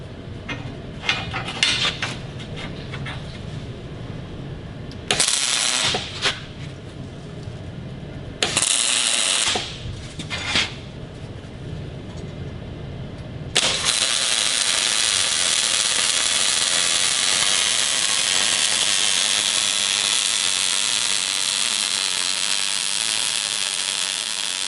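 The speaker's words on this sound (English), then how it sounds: "We're just going to run a little lap weld" MIG welding a lap weld with steel wire, starting with a few short crackling bursts and then settling into a long, steady, loud buzzing hiss that runs alone to the end.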